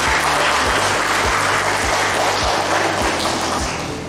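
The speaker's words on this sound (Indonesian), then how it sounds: "Luar biasa sekali ini tepuk tangan" An audience at a fourth-anniversary event for YPMAK in Papua applauds loudly and steadily, dense clapping over regular low thumps that fades slightly at the end.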